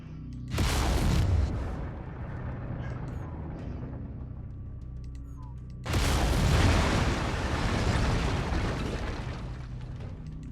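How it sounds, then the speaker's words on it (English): Heavy weapon fire from a battle mech in MechWarrior 5, two loud broadband blasts with long roaring decays, the second starting midway, over a steady low rumble with faint voice underneath. "Lasers are mapped to weapon group 2. Fire them when ready."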